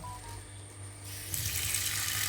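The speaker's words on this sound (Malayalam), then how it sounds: "അപ്പം ഇതൊന്ന് നമുക്ക് വെള്ളത്തിൽ ഒഴിച്ചിട്ട് ഐസൊക്കെ ഒന്ന് മാറ്റിയെടുക്കാം" Tap water runs over frozen fish to thaw off the ice, starting as a low hum and then rushing into a sink in a steady, close splash.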